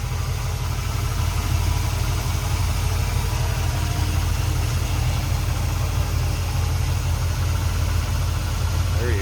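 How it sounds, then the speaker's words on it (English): A 1974 Ford F100 Ranger pickup's 460 V8 with a 4-barrel carburetor idles smoothly, a steady low rumbling throb heard close and continuous with no revving. "Good sounding engine, plenty of power."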